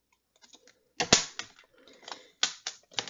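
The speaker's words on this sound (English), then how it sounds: "I'm going to use my paper snips to make a flag on the end" Metal paper snips cutting paper for a greeting card, a series of sharp crisp snips spaced irregularly, close and clear with no talking.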